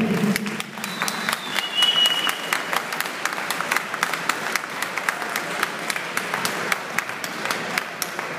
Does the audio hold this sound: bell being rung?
no